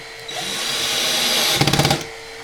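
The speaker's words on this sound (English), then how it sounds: "drill the other 2 down, pull it as tight as I can" Power drill running steadily while driving screws into a Twin XL daybed with storage drawers during assembly, ending in a short burst of rapid stuttering pulses as each screw seats; close and loud, no talking.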